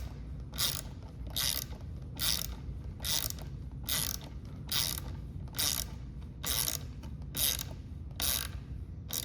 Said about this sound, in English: So as I tighten down this tension bolt, first of all, it's gonna get a lot harder to keep tightening.